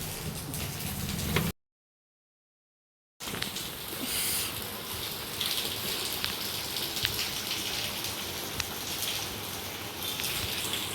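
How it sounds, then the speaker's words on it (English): Steady rain falls outside a balcony, a soft, continuous patter heard close and alone, briefly cut by a moment of silence before resuming. "It's raining."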